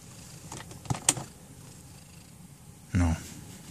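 A cat purrs softly inside an RV during a fall trip, a low steady rumble broken by a few brief clicks and one louder thump near the end.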